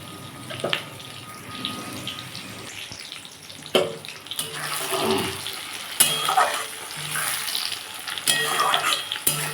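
Onions frying in a pan for a Bengali-style country chicken curry, a continuous near sizzle broken by bursts of louder hissing and stirring scrapes, with occasional clatter.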